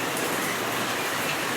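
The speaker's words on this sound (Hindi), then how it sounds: "दिख रही है ना आपको बारिश" Heavy rain pours down in a dense, steady hiss, with no voices.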